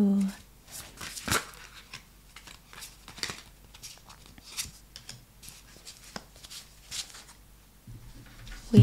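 Tarot cards being shuffled close up, soft riffling and papery flicks in irregular bursts, quiet and intimate, with a voice speaking softly over parts of it.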